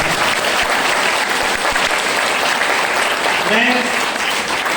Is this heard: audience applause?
yes